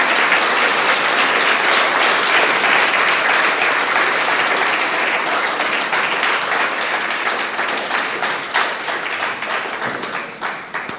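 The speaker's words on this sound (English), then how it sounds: "Please give him a big round of applause." An audience at a book launch in Melbourne, Australia, applauds loudly to welcome an author. The dense clapping thins and fades toward the end.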